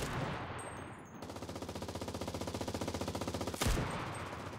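Turret machine gun firing in the CRSED video game: a steady, rapid stream of loud repeated shots lasting several seconds, cutting off with a final louder burst.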